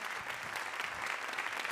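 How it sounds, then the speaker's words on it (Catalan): Steady, dense applause from an awards gala audience, a continuous wash of many hands clapping throughout with no talk over it. "Per favor, un fort aplaudiment per a Samantha!"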